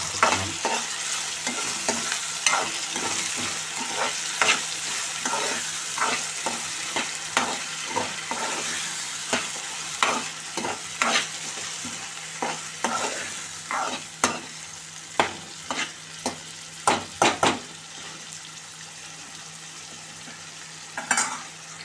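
A spoon stirs tomatoes frying with onions and ginger paste in a pan for egg curry, giving repeated scraping clicks in an uneven rhythm over a steady low sizzle, close and clear without talking.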